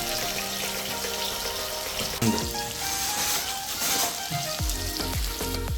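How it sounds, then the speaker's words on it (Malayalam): Fish frying in a pan with green pepper, garlic and ginger, a continuous crackling sizzle of oil with small pops and the occasional clink of a utensil. "നമ്മുടെ ഫ്രൈ പാനിൽ ഇനി പൊരിക്കാൻ ഇട്ടിട്ടുണ്ടോ"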